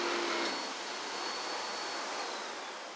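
A Miele S5481 canister vacuum runs with its powerhead floorbrush motor engaged, giving a steady, fairly quiet broadband whoosh that holds evenly throughout with no talking.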